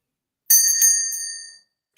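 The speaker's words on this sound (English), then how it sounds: "let's start with our little bell real quick" A small bell is struck once to open a session, giving a bright, clear ring that decays smoothly over about a second, close and alone.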